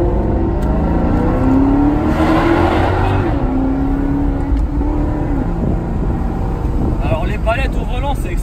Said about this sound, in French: c'est un V8 qui est issu de chez Ferrari.